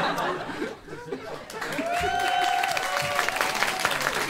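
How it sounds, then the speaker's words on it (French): Audience applause during a French comedy show, a broad wash of clapping with some laughter and a cheering voice rising over it, steady and fairly loud throughout. "On peut l'applaudir"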